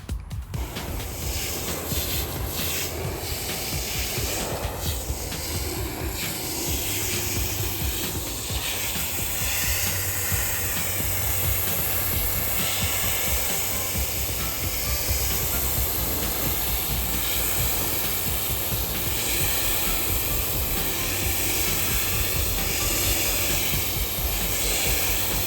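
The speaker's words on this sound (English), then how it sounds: "I'm gonna go ahead and just spray these areas, spray all that and let it dry out" Steady, continuous hiss of black dye sprayed from a spray bottle onto a Lexus IS300 car floor mat, running the whole time with no pauses, close and fairly loud, with no voices.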